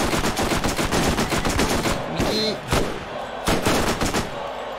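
Dense, rapid gunfire from the video game Borderlands fills the space, with bursts of automatic shots and brief pauses, loud and close throughout.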